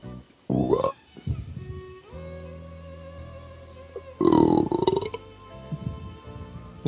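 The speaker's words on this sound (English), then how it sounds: "That was a sick burp." A loud, drawn-out human burp rumbling for a couple of seconds during a gaming stream, preceded and followed by brief bursts of voice and background sounds.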